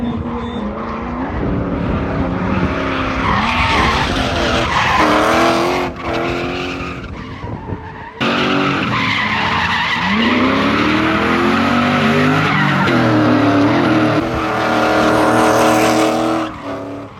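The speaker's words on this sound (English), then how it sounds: "This time it's David's chance to prove that he can drift." Drift cars battle at Suika Circuit, engines revving hard with wavering pitch as tires squeal and skid loudly through long slides, one sharp break midway before the screeching and engine howl resume up close.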